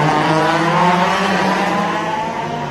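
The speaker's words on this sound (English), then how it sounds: "The sound that is rumbling right behind me as they accelerate out of the corners is amazing." Race cars at the Bangsaen Grand Prix street circuit in 2019 roar and rumble steadily as they power out of corners, a loud continuous engine drone with layered harmonics from several cars close by.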